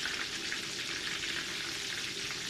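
Thin-sliced pork layered into a tonkatsu cutlet crackles and sizzles steadily in 180°C deep-frying oil, a soft, even bubbling hiss close by with no talking.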